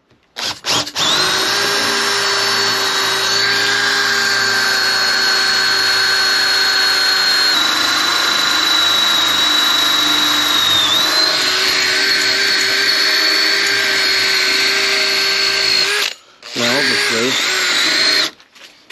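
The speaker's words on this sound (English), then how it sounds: "Make sure the drill is upright." A power drill fitted with a 13mm bit bores a hole, a loud, close, steady high whine held for about fifteen seconds, cutting out briefly, then a short second burst.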